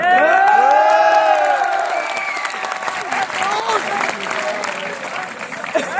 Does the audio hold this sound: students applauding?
yes